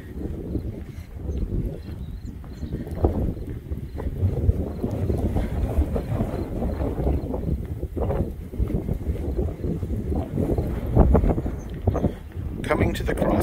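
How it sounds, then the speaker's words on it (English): Strong wind buffeting a microphone on the Lake Erie shore, a rough, continuous low roar with gusty surges, while someone talks throughout. "It's windy out here, so apologies if you can't hear me too well"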